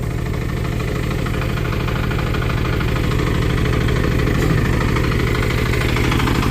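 A homemade sprayer mounted on a motor tractor runs steadily, its single-cylinder engine chugging in a fast, even knock at close range with a constant mechanical whir and no speech.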